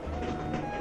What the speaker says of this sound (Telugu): కళ్యాణి రైలు ఎక్కుతుందా?